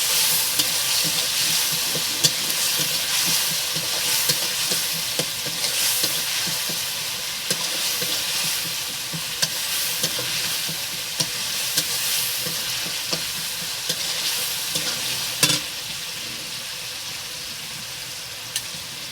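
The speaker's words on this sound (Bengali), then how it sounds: "এরপর আমি আদা বাটা দেবো এক চামচ ভালো করে কষে নেবো" Ginger paste stir-fries in oil in a pan for chicken egg chowmein, a steady bright sizzle with repeated spatula scrapes and light clicks close by, without talk.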